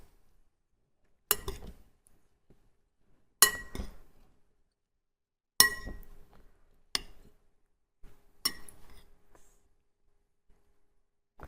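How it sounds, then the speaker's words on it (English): A utensil clinks against a bowl while a salad of parsley and coriander is stirred, five separate sharp knocks spaced a couple of seconds apart, each trailing into a short rustle, with quiet between them. "We'll give that a good stir."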